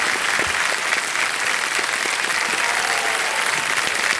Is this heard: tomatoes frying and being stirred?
no